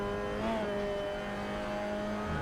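A Mazda MX-5 Cup race car engine drones at steady high revs on track, with a brief pitch dip partway through before settling into a sustained, close, even note.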